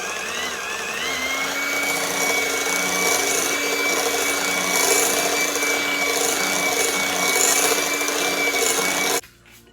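An electric mixer beats cream cheese with sweetened condensed milk for a no-bake cherry cheesecake pie, giving a steady, loud motor whine with a grinding rasp that runs unbroken and then cuts off just before the end.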